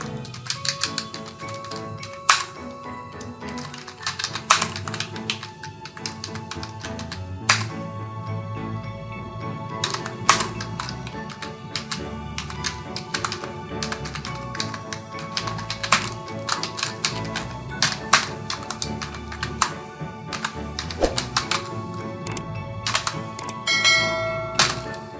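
Someone types on a computer keyboard in Microsoft Word, entering an institution's name. Irregular bursts of quiet key clicks and occasional sharper taps continue for about 25 seconds, with pauses between runs.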